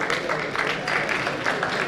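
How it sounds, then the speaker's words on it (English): Applause for two teachers being honoured as speakers at a Hindu College fest, dense steady clapping from an audience sustained for the whole short stretch, with a faint murmur of voices underneath. "Give a huge round of applause for both the teachers."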